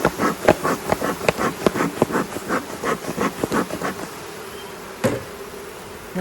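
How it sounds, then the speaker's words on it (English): Honeybees from an opened double-deep hive during a beekeeping inspection, a dense buzzing hum under a string of sharp knocks and taps from hive frames, with one louder knock near the end. "Look at that, bumper set of bees."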